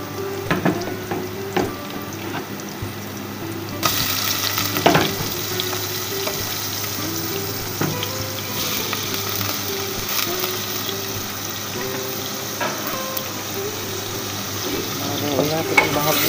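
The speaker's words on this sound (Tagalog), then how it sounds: "Lagay natin yung ating konting hipon." Shrimp frying in a pan for a sautéed chayote dish, a steady close sizzle with crackling pops and occasional utensil clinks, no talk over it.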